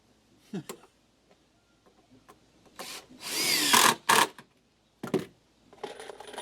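A power drill drives beige screws into treated lumber for simple lake cottage entry stairs, a couple of short whirring bursts between knocks and wood handling, close by.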